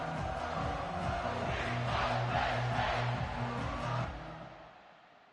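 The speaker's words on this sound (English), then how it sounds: "This crowd trying to show them what it's going to be like all day in this house" A packed college football stadium roars in the video game College Football 25, a dense sustained crowd noise with chanting band-like tones that swells steadily and then fades away toward the end.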